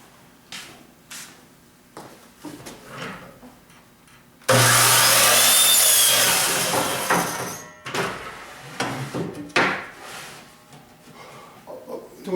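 A power saw cuts wooden cabinet door stiles and rails to length in a workshop, its motor whining up sharply into a loud, bright cut lasting about three seconds, then winding down among quieter knocks and handling sounds.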